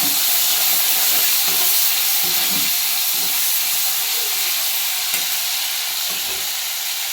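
Tomato frying with salt in a pan gives a steady, loud sizzling hiss that runs without a break, with faint stirring underneath.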